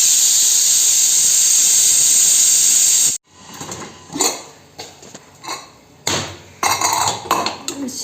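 A pressure cooker cooking country chicken curry lets out a loud, steady steam hiss for about three seconds. The hiss cuts off abruptly and is followed by scattered metallic clanks and knocks of the lid and pot.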